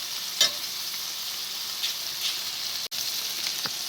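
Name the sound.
butter sizzling in a frying pan for hash browns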